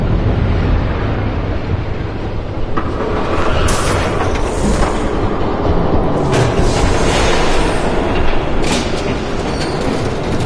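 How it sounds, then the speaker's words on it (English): A train rolls past in Batman: The Telltale Series, a loud, steady rumble with rhythmic clickety-clack of wheels on rails and wind rush throughout, no talking. "There's a train coming."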